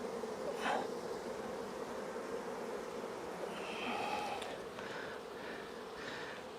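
Dense, steady buzzing of honeybees swarming close around an open beehive, a continuous insect drone with brief louder swells as the bees are shaken out.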